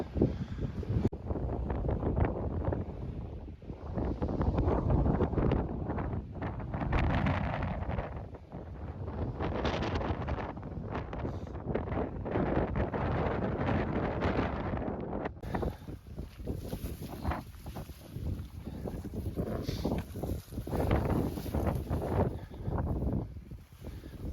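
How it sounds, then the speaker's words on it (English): Strong, gusty wind buffets the microphone on a hiking trail, a loud, rough roar rising and falling throughout with no talk. "unfortunately the wind has not really died down much for me"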